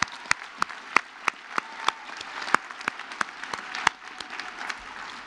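Audience applause at an adult basic HSE graduation ceremony, a steady wash of many hands clapping with sharp individual claps standing out near the microphone, sustained evenly for several seconds with no talk over it.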